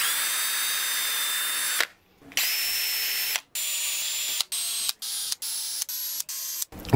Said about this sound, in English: Now we're going to use our hand drill here